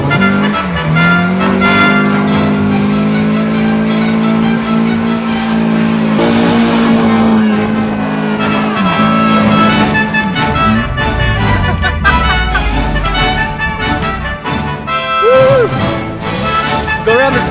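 A car with a loud exhaust does donuts around a small bush, engine roaring and revving steadily close by. Tires squeal and the engine pitch swings up and down as it circles, with faint voices now and then.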